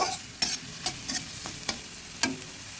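Soft frying of onion and ginger in a pan with several sharp stirring scrapes and clatters spaced irregularly, close by, no voices.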